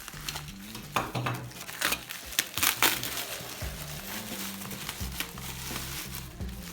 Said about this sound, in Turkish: Bantları da kesip baloncuklu naylondan kurtuluyoruz.